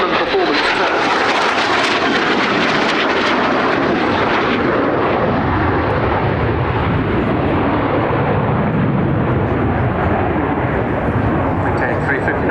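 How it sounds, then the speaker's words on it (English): AV-8B Harrier II jet roaring through a maximum performance turn at 350 knots at an air show, a loud sustained jet roar that dominates the whole stretch, with an announcer talking over it. "Maintaining 350 knots, which is the best turn speed for the Harrier."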